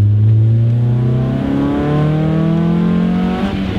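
A car engine runs steadily after being push-started on a dead battery, a loud, close mid-pitched drone that rises slightly in pitch as it revs and accelerates, with no talking.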